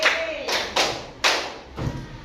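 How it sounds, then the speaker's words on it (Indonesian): Classmates clap in a few sharp, broad bursts, roughly five spaced group claps for a team in an elementary classroom, close and fairly loud with faint voices around. "tepuk 5 untuk kelompok 1, tepuk 5 2 kali"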